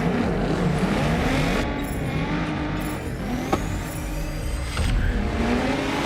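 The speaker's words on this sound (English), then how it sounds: "GTR takeoff, man. That rev limiter bouncing." A game car's engine in Test Drive Unlimited Solar Crown, a GT-R style sports car on hard takeoff, revs high and steady against the rev limiter, bouncing with rising and falling pitch sweeps and a brief sharp click midway.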